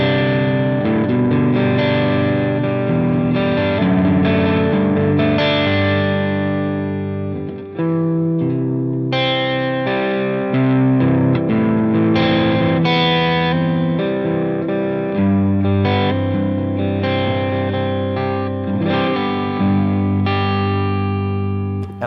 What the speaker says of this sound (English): if I kick in some reverb here, I think it sounds really nice with the gain all the way down